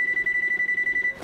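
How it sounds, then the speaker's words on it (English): Kitchen timer being set, a quick run of about a dozen short, loud, piercing electronic beeps in an even rhythm, stopping abruptly just before the end. "we're gonna set a timer for"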